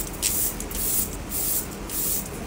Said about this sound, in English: I'm gonna do setting spray.